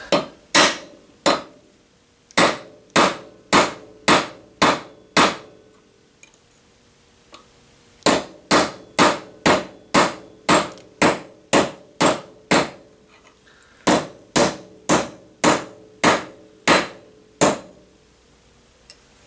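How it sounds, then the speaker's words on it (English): Metal stock hammered flat on a hard surface for a DIY vertical axis wind turbine build, heard as loud, close, evenly spaced ringing blows in three bursts of about eight to ten strikes each with short pauses between. "I'm gonna hammer this flat."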